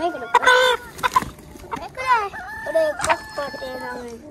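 A rooster crowing in a rural village setting, several harmonic calls and clucks over about four seconds, close and fairly loud with someone speaking around them.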